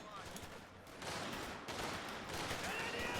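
Browning machine guns answer G43 rifle fire during a World War II battle in a video game: dense, continuous crackling gunfire with overlapping bursts, steady and fairly loud throughout.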